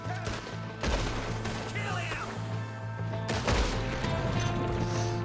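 Gunfire in the open-world western game Red Dead Redemption 2, a few sharp cracks standing out over a steady drone of game background sound.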